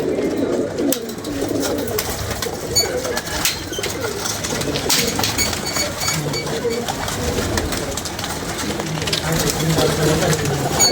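Pigeons coo steadily among a busy ambient bed, with people talking nearby throughout.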